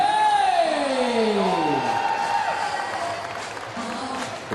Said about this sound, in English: The crowd is most certainly into it.